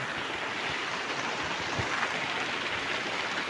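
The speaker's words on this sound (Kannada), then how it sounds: "ಸರಿಯಾಗಿ ಹೊಡಿತೈತೆ ಮಳೆ" The first heavy monsoon rain of the season pours down steadily, a loud dense wash of noise that holds unbroken from start to finish, with no talking.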